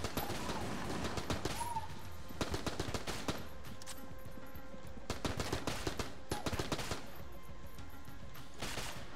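Rapid bursts of video game gunfire, repeated volleys of sharp automatic shots in clusters with short pauses between them, loud and up close over a steady background.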